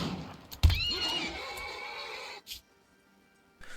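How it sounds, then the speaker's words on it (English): A horse whinnies loudly and shrilly in the video game RimWorld, where a mad horse has broken into a house; a single neigh rises and trails off, followed by a short thump and quiet. "a mad horse broke into my house"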